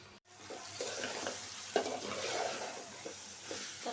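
Steady sizzling and scraping of katla fish head masala being stirred in a hot pan, continuous with occasional louder clinks of the spoon.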